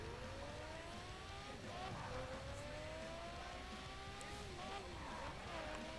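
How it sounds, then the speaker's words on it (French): A car in the racing video game The Crew drives steadily, its engine note climbing and shifting through gears under a continuous hiss of road and wind noise, quiet overall. "Vous voyez que j'ai une voiture."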